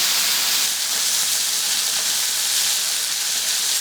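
Ginger and garlic stir-frying in a large wok, a loud, steady sizzle and hiss of hot oil that runs unbroken and close throughout, with no talking.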